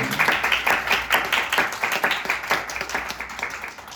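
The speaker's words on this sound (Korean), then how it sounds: "우리 한 번 더 영광의 박수 우리 주님께 올려드리도록 하겠습니다" A church congregation claps together in praise to God during a Korean worship service, producing steady, moderately loud rhythmic clapping that continues throughout without pause.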